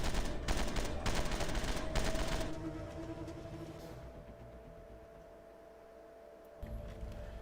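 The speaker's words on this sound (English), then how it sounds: "just look at the explosion and the physics in the shooting and how much more detail there is when you take a zombie out" Rapid bursts of gunfire and explosions from the VR zombie shooter Death Horizon crackle loudly for the first couple of seconds, then fade into a quieter rumbling tail before a final thump.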